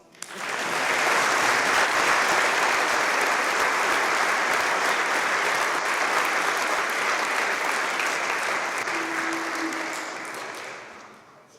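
A large audience applauds at an annual awards chapel ceremony, sustained, dense clapping filling the hall at steady loudness for about ten seconds before thinning slightly at the end.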